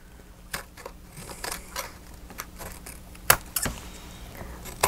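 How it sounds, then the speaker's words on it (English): Scissors cut through a paper envelope at a crafting table, giving a run of sharp, scattered snips and crisp paper crackles, quiet overall with a few louder clicks near the end. "take your scissors. At least it's giving you a straight line to cut on"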